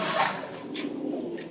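Fancy pigeons cooing nearby, a couple of soft, low throaty coos over a brief stretch, fairly close with no one talking.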